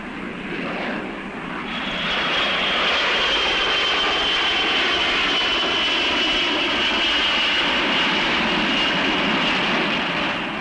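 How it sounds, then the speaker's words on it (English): A loud airplane engine roar builds over the first two seconds, then holds as a sustained, powerful drone with a high whine. "an average of 5 airplanes are taking off or landing somewhere in these United States."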